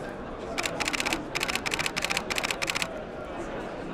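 A Canon EOS 7D fires high-speed bursts, rapid mechanical shutter clatter in tight groups of fast clicks separated by brief pauses, close and crisp at a trade show.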